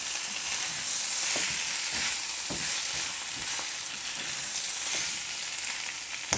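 Shrimp, broccoli and rotini sizzle steadily in a hot pan while being stirred, a loud continuous frying hiss with soft scraping of the utensil, no talking.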